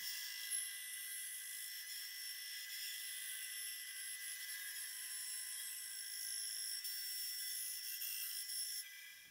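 A high-pitched whining power tool trims a wooden board for a bass guitar neck in a luthier's workshop, a steady shrill buzz held for several seconds before cutting off abruptly, close and alone.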